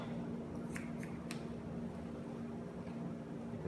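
Scissors cutting a child's hair, with strands lifted to 90 degrees for a layered cut: a few crisp, close snips over a steady low hum, with no talking.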